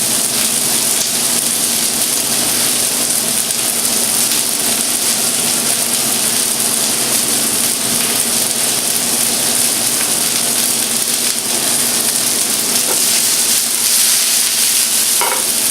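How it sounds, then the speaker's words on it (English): Okra sears in a hot pan with a steady, dense sizzle and crackle that runs unbroken throughout, close and fairly loud, with no talking. "Leave it for a few seconds so that like it gets nice searing in the bottom"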